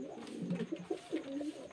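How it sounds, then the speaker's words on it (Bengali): Giribaz-line pigeons from Murshidabad, offered for sale in Beldanga, give a few low rolling coos in quick succession, close and moderately loud, with a faint voice in the background. "এই যে সব গিরিবাজ লাইনের পায়রা"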